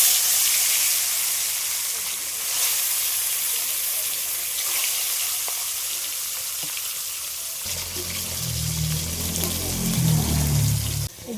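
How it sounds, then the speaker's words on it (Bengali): Tilapia pieces seasoned with turmeric and salt fry in hot oil with a loud, continuous, close sizzle. Lower bubbling and stirring rumbles join near the end. "এবার আমি মাছগুলো সব ভেজে নেব।"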